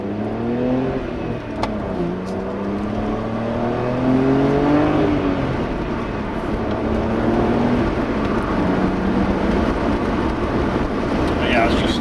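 A BMW 130i engine revs repeatedly through a modified exhaust, the deep exhaust note climbing and dropping in pitch several times, loud and steady with a rumbling background throughout.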